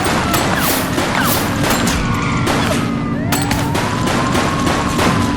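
Gunfire in The Precinct, a police video game: dense rapid shots and crashing impacts overlap in a loud, continuous barrage.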